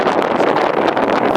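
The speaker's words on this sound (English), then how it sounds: "it's windy." Gusting wind buffets the microphone while a 1979 Chevy G20 van drives along, a loud, rough roar filling the brief moment.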